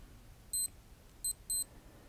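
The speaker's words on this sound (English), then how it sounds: "when you're in alarm mode, you can test the alarm by pressing the bottom right button." A Casio G-Shock GD-X6900 digital watch alarm under test gives three short, high, thin beeps, the last two closer together, faint against a quiet room.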